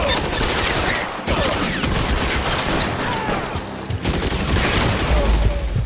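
Dense, continuous gunfire crackles through a shootout in the video game L.A. Noire, with loud overlapping volleys and booms that barely let up from start to finish.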